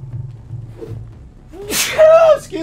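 A game character sneezes in Vampyr, a sharp burst with a gasp-like onset rising over low background game sounds and speech.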